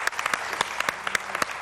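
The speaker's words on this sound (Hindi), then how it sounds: "जोरदार तालियों में" A TV studio audience claps to welcome guests on a morning show, a brief, moderately loud patter of individual claps lasting under two seconds.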